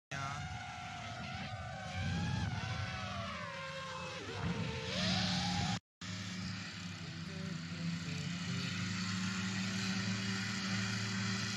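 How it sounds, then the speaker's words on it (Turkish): A drone buzzes with a whiny, pitch-shifting hum that rises and falls, cuts out for an instant, then settles into a steady drone. "Drone'un sesi çok rahatsız değil mi?"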